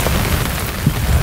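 Rain falls steadily, a loud, dense hiss of drops with a few heavier patters, heard alone without voices.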